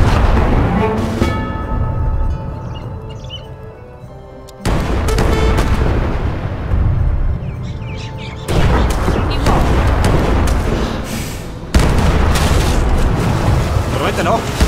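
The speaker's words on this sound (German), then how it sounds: "Mit der stationären Kanone können wir die gegnerischen Gebäude in der Nähe zerstören." A stationary cannon in the strategy game Age of Empires 3 fires in heavy booming blasts, several loud detonations with rumbling decay and sharp onsets at intervals, amid battle noise and game sounds.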